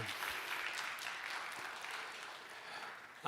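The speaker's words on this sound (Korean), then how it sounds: "하나님께 영광의 박수 올려드리겠습니다" A church congregation at Sunday worship gives steady applause, a soft, even wash of many hands clapping together that holds for a few seconds with no talk over it.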